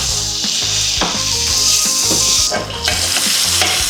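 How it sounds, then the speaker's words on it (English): A big knob of butter sizzles loudly in a hot pan beside a coffee-rubbed NY strip steak. The frying is close and continuous, with rhythmic scraping and stirring strokes on top and no speech. "We're gonna get a big knob of butter in the pan here."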